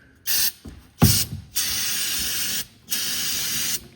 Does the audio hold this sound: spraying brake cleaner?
yes